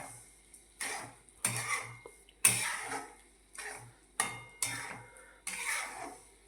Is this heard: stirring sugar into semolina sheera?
yes